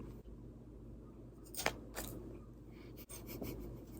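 Scissors snip through the stem of a Philodendron Brazil during plant repotting and cuttings, giving a couple of sharp, close cutting clicks over a quiet room hum.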